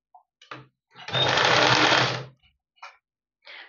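A sewing machine runs in one steady, buzzing burst of about a second while stitching the bottom edge of a blouse cross strip, with brief clicks and handling noises before and after.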